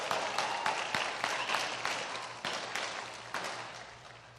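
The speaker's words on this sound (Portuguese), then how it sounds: "uma salva de palmas para o meu irmão, Hudson Marçal" An audience at a political pre-campaign launch event applauds, with scattered distinct claps over a fading crowd clapping that is fairly quiet and gradually thins out.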